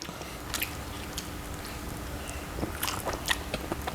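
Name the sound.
tasting food, chewing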